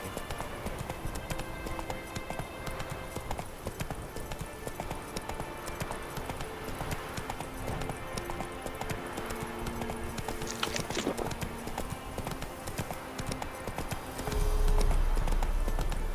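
Steady clip-clop of Roach the horse's hooves in The Witcher 3 on Xbox One X, a continuous trotting rhythm over game ambience, with a louder rumble near the end.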